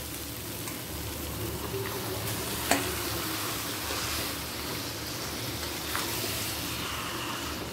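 Marinated mutton frying in oil released from browned onions, a quiet, continuous sizzle with a few soft stirring clinks and taps from a utensil against the pot.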